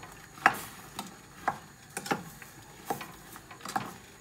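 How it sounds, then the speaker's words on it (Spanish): Apple filling for a strudel cooks in a pan with walnuts, giving a faint sizzle under a series of soft spoon scrapes and taps spaced about half a second apart, with no talking. "Mientras se va cocinando la manzana"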